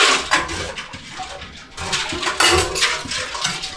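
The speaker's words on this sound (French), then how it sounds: "Je vais juste rincer ça ici." An old fashioned cocktail glass is rinsed under running water, giving close, splashy bursts of water that swell and pause irregularly over a few seconds, with no talking.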